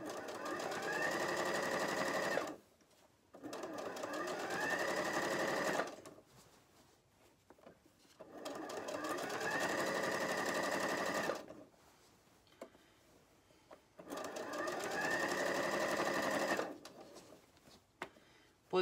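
A sewing machine stitches fabric for a baby carrycot bag in four long, loud runs of steady mechanical whirring, separated by short pauses with light handling noises and no talk.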